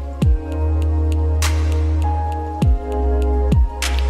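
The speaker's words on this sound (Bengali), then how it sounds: "হালকা পশলা বৃষ্টি হচ্ছে একদম" Light drizzle falls on a rooftop, a few scattered drops landing with soft taps and splats over a steady low hum, without any talking.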